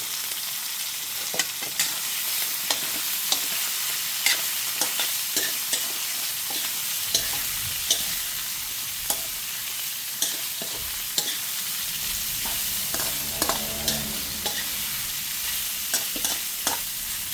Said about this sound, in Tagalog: Lagyan na po natin yung ating in-slice na beef. 1 kilogram po yan.